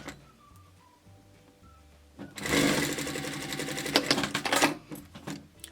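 Sewing machine stitching a 5mm seam on a woven fabric hairband, a steady rapid mechanical stitching run starting after a couple of quiet seconds with brief handling noise, close and clear.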